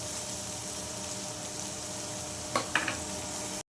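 Onions and ginger paste fry in coconut oil with a steady, even sizzle, and a couple of short spoon scrapes come near the end before it cuts off.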